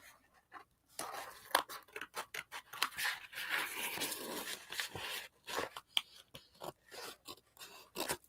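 Scissors cut paper for a collage book in a long, busy run of close, crisp snips and rustling slices, repeating rapidly with short pauses.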